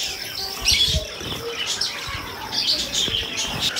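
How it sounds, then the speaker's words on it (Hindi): Soft cooing and fluttering from pigeons close by, with scattered chirps and rustling over a quiet background. "यहाँ कबूतर बैठे हुए हैं अंदर"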